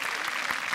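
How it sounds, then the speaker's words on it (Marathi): An audience claps in a steady, dense burst of applause at a televised women's show, loud and close with no pauses. "जोरदार टाळ्या."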